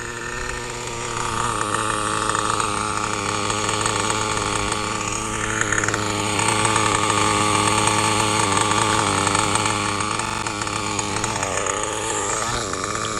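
Traxxas Platinum Revo RC truck with a PICCO .21 nitro engine running continuously, a loud buzzing high-pitched whine that rises and falls as the throttle shifts, close and uninterrupted.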